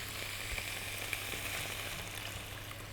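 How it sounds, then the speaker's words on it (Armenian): Steady hissing sizzle as water hits a hot pan of meat being deglazed for nachos, with crackles and faint stirring scrapes, close and constant, no talk. "Մի քիչ ջուր եմ ավելացնելու։"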